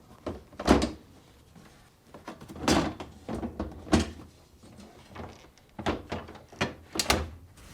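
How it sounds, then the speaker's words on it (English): A Whirlpool freezer drawer is tilted and set onto its left slide and bracket, making a series of close hollow plastic thunks and knocks at uneven intervals with short pauses between them. "Now, tilt the front down and position it on the slides."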